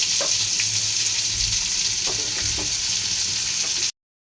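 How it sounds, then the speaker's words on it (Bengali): Chana dal halwa paste fries in ghee with light spices in a pan, a loud, continuous close-up sizzle with soft scraping strokes of stirring throughout, cutting off abruptly near the end. "মশলাগুলো হালকা ফ্রাই করে এখন আমরা দিয়ে দিব বেটে রাখা হালুয়াগুলো।"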